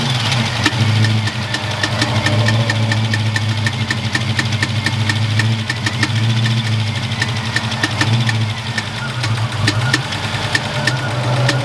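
A rebuilt Foxbody Mustang engine runs close up with a steady, rough mid-pitched idle and a regular ticking knock throughout, loud and continuous with no talk over it.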